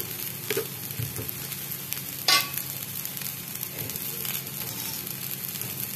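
Egg, cauliflower, rice and chopped green chilli and tomato for a pulao fry together in a pan, a steady dense sizzle with occasional stirring scrapes and one brief louder clatter partway through.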